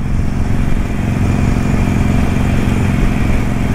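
A Harley-Davidson Iron 883 motorcycle engine drones steadily and loudly at close range, a rough continuous rumble of riding.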